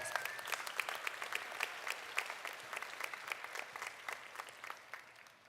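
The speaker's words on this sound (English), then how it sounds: "Can we give our professors, instructors a round of applause?" Steady applause from a commencement ceremony crowd, many hands clapping continuously at moderate volume for several seconds without voices.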